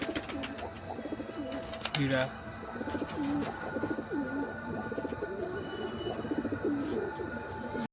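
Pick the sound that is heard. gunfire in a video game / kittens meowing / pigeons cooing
pigeons cooing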